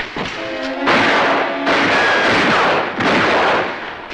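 Gunshots in a radio-drama shootout ring out as a few heavy, booming blasts that run into one another, each with a long rumbling tail. They are loud and close, with a faint tonal hum beneath and no talking.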